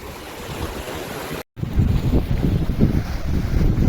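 Steady wind buffets the microphone at the seashore during a fishing outing, with a low roar of surf behind it and a brief dropout before the gusts resume louder.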